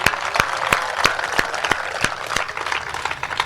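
Audience clapping at a live Hindi poetry recital, a fairly thin crowd applauding together in a regular rhythmic beat of about three claps per second, near and fairly loud.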